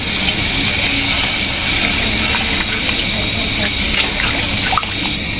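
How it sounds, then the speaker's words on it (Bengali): Water pours steadily into a pot of braised duck curry, a continuous close splashing rush that runs the whole time with a small clunk near the end. "এখন আমি পানিটা দিয়ে দিব।"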